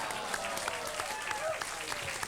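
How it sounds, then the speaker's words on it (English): A studio audience at a game show breaks into steady, dense applause for Elvis impersonators, a continuous wash of many hands clapping at a fairly even level, with a faint voice murmuring underneath. "we sure do want to give them a big applause"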